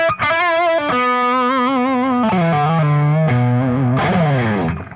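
Distorted electric guitar lead on the 6-string neck of a double-neck guitar with vintage-voiced pickups, sustained bending notes with vibrato played loud and alone.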